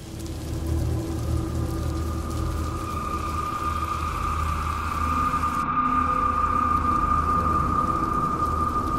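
Heavy rain falls steadily in a dark night scene on a river boat, a cartoon sound effect with a dense, constant wash of downpour and a low rumbling undertone throughout.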